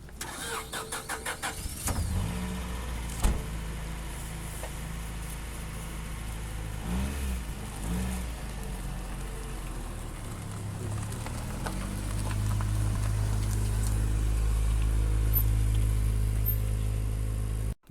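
A Honda Integra DC2 sitting on old, dirty oil cranks with rapid clicks, then fires and settles into a smooth, steady idle. The engine revs up briefly and later holds a louder, higher drone, close by with no talking.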